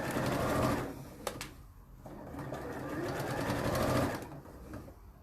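A sewing machine stitches a fiddly curved hem facing, running in steady bursts with brief pauses between them as the fabric is guided. The motor buzz is close and fairly loud, with a faint voice in the background.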